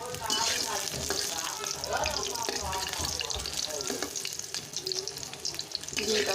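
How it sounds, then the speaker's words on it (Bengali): An egg fries in a pan with a continuous crackling sizzle, moderately quiet and close, with faint clinks and watery splutters mixed in. "ডিমটা ভেজে নিচ্ছি।"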